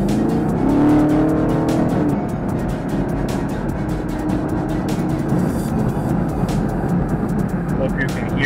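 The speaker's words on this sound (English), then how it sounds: "hear the rumble. That great V8, that LT1 under the hood" The LT1 V8 in a Chevrolet Camaro SS gives a steady low rumble from inside the car while driving, with loud road and wind noise throughout and a few brief clicks and knocks.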